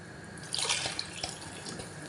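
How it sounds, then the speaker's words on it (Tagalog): Water trickles and drips into a pot of Filipino beef nilaga soup, a light splashing pour with a few brighter drops, fairly close and alone. "Dadagdagan ko nga po siya ng tubig mga boss chief."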